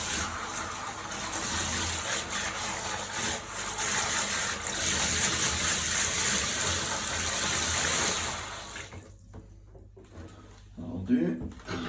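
Boiling water poured from a kettle to sterilise reef aquarium equipment, a steady loud gushing splash for about eight seconds that stops abruptly, followed by quieter handling noises and a voice talking.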